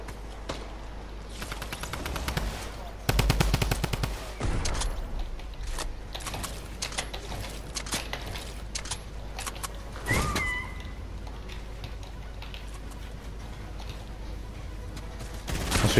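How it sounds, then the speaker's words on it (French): Gunfire aimed at the player in Fortnite Battle Royale, bursts of rapid shots early on, then scattered single cracks and mechanical clatter over a steady game background. "On se fait tirer du bout là."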